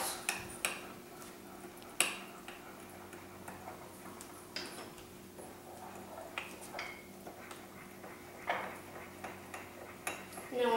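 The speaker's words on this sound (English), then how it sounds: "we're going to mix it all together" Light, quick clinks and taps of a utensil against a mug while mixing chocolate mug cake batter, repeating irregularly, faint and close over a quiet background hum.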